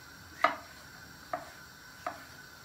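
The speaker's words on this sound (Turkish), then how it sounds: "Hemen şöyle domateslerimizi de doğruyoruz." Knife chops tomatoes on a board with three sharp, separate strikes spaced about a second apart, quiet and close with no voices.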